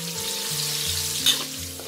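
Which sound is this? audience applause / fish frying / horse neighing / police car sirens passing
fish frying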